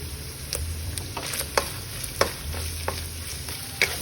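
Onions sizzling and frying in a pan while a utensil stirs them, with quiet steady crackle broken by several sharp scraping clacks at irregular intervals, close up, no voices.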